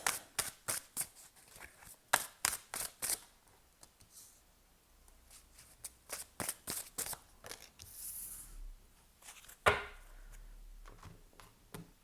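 Tarot and oracle cards being handled and shuffled close by, quiet riffles and soft slaps in quick bursts separated by pauses, with light rustling between them.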